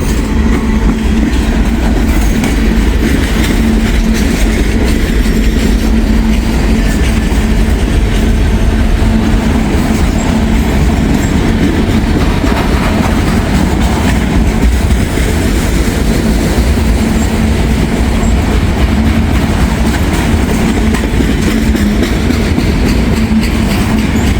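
A freight train of empty trash gondolas rumbles steadily past close by, with a continuous low roar, rhythmic clickety-clack of wheels on rails, and faint metallic squeals.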